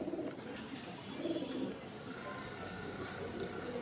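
Madras or Andhra pigeons cooing softly at close range, low repeated coos over a steady background hiss.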